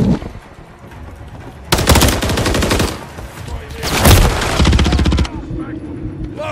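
Bursts of rapid automatic gunfire from a Modern Warfare 3 Hardpoint match on the Estate map, firing the Rival 9 SMG, loud and close, in two long strings with a short gap and a quieter stretch after.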